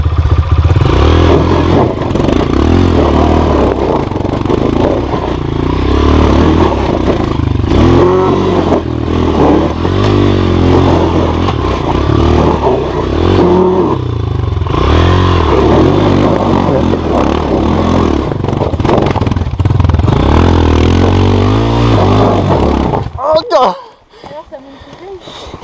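A dirt bike engine idles and revs steadily nearby for most of the clip, with voices talking in French over it, then cuts out abruptly near the end.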